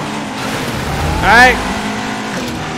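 Chevrolet Camaro LT engine revving in the racing game Asphalt 9, a steady game engine drone with a brief rising whine in the middle, mixed under game music and a voice speaking.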